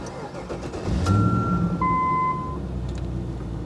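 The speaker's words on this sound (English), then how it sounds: "I'm going to put my key in the ignition, turn the key" A 1995 Range Rover engine cranks and catches, then settles into a smooth, quiet idle, close by and steady.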